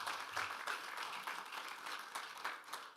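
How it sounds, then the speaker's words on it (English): Applause from an audience at an Africa trade development forum ceremony, a steady moderate patter of many hands clapping for three seconds with no voices over it. "A round of applause as they line up for the photo."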